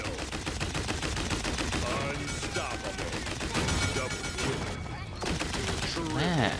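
Vivian fires rapidly in the video game Paladins, producing dense continuous gunfire with layered shots and game effects, and a voice talks faintly underneath.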